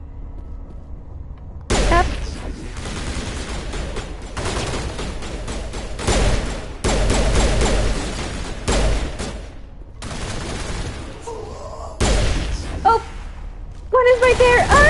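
Gunfire in the video game Mass Effect, repeated bursts of shots in separate loud volleys between brief quiet gaps, with game effects and a person talking and exclaiming over the action.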